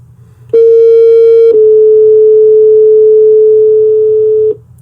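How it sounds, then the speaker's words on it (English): Two loud electronic paging tones transmitted by a dispatch system play back to back, a short high beep followed by a longer, slightly lower sustained tone, then silence. "You heard the two tones go out."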